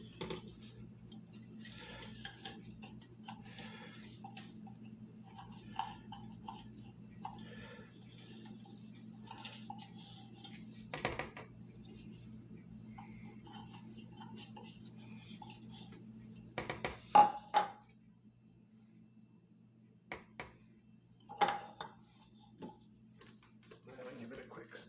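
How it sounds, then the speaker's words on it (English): Handmade soap mixture with oatmeal and moldavite being stirred in a container, soft scraping and light clinking strokes with a few sharper knocks near the end, faint and close while a person talks. "Give it a quick stir."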